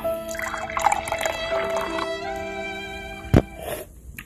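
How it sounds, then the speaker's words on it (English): Nerd Focus energy drink, a carbonated yellow beverage, being poured, a bubbly liquid stream running steadily for a few seconds with a brief sharp clink near the end, fairly close and alone without talk. "Let's pour one out here."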